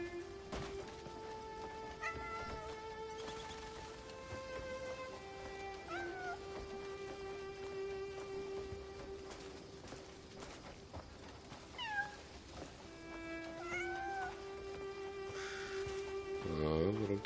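Cat in the video game Crimson Desert giving several soft, rising meows spread across a long stretch of quiet, humming game ambience, with faint background sounds and brief speech near the end.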